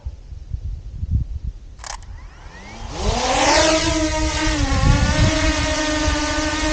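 A DJI Mini 2 drone takes off on a windy day: after soft handling bumps and a click, its rotors spin up into a loud, rising whine that settles into a steady, close buzzing hum.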